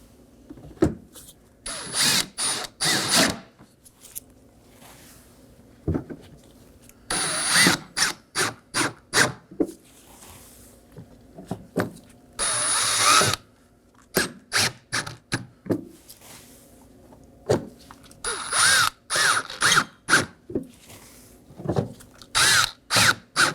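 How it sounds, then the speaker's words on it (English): A ratchet snugs down five T15 Torx screws on a Chevrolet Equinox bumper, loud clicking bursts in quick rapid strokes, grouped in several runs with short pauses between. "Now for our 5 T15 Torx screws. I'll just be snugging these down."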